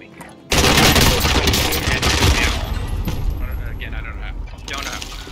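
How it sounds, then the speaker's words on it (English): Rapid automatic gunfire in the Call of Duty video game erupts suddenly and loud, continuing as a dense clattering fusillade that gradually eases, with a player's voice talking over it. "I'm shooting him"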